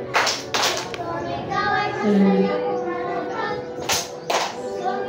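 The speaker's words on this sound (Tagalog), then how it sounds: "Ikaw ay masaya pumalakpak." Children in a Grade 2 classroom clap their hands to a Filipino action song, sharp claps in a few bursts between sung lines.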